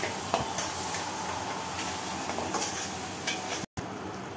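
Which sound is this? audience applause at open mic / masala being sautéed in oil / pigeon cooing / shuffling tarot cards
masala being sautéed in oil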